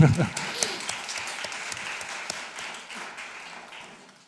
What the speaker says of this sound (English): I will just make an applause for the speakers